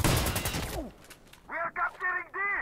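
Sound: gunfire in video game Insurgency Sandstorm

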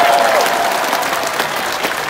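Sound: audience applause

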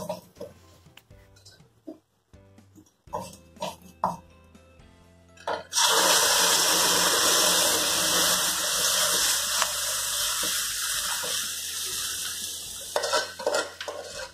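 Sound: pouring water into sambar

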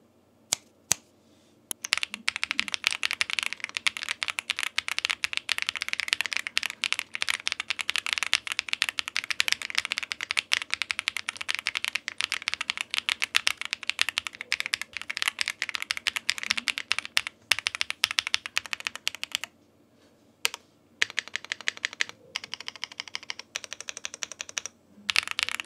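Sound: typing on Zoom 75 Tiga keyboard with echo switches

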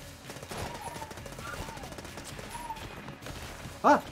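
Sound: gun shots in video game Enter the Gungeon

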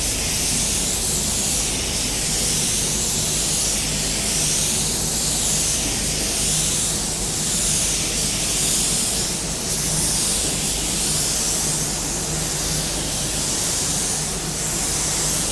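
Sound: spray gun spraying second coat of paint on car door

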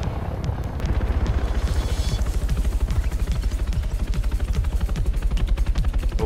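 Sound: helicopter overhead in a video game

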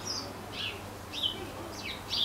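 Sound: birds chirping in a tree

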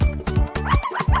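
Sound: puppies barking and whimpering

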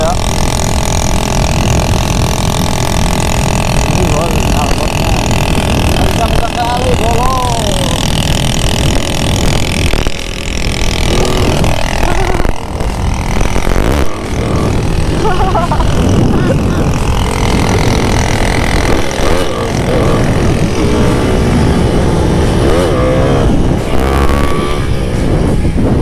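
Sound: Honda GL100 motorcycle engine and exhaust during test ride

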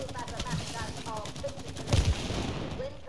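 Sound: shooting in video game It Takes Two

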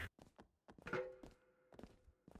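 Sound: fire extinguisher thud used as a weapon in WWE 2K20 video game

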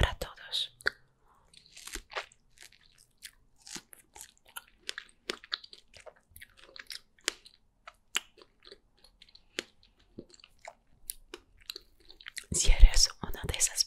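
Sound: chewing strawberries, eating sounds

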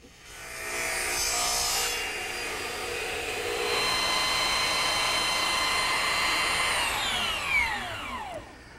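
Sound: sanding wooden chair turnings smooth

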